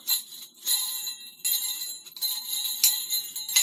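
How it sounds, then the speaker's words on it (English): Metal begleri beads swung and flipped in the hand jingle like sleigh bells, a series of bright, close metallic rattles and tinkles in irregular bursts with no talking. "This sounds like Santa's reindeer."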